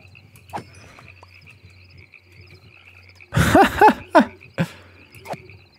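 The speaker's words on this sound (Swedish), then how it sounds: "Åh, grodor!" Frogs croaking in the game Minecraft: a few clear croaks close together near the end, loud against quiet game ambience.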